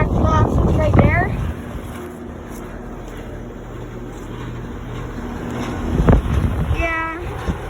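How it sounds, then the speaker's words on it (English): A 2001 Carrier Tec2000 4-ton, 12-SEER silencer-series air conditioner runs outdoors with a steady broadband whoosh of fan air and a low mechanical hum, while people speak briefly near the start and again near the end. "It's a 12-seer Carrier Tec2000 silencer system."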